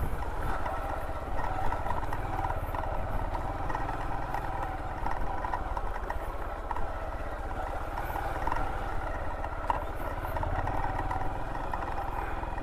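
Motorcycle engine running steadily while riding a rough rural road to Barangay Kauswagan in Sogod, Southern Leyte, a constant mid-pitched drone with light rattling from the bumpy surface and no talking.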